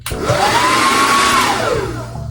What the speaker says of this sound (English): I'm gonna take the blow dryer and diffuser,